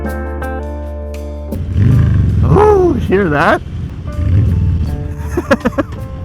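A 2022 Harley-Davidson Softail Standard with a Stage 1 exhaust kit idles with a deep, steady rumble, then revs into a loud, throaty roar while someone talks excitedly over it.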